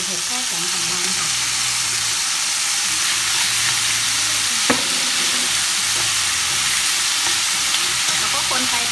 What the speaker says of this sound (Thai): แล้วก็คนไปแบบนี้นะคะรอให้เห็ดละลายรอให้เห็ดสุกนะคะ